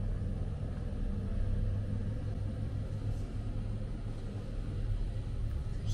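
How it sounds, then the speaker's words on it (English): Large food delivery truck idling across the street outside a Sainsbury, a steady low engine rumble throughout, distant but heavy and continuous. "Huge food truck making a delivery to the Sainsbury right across the street."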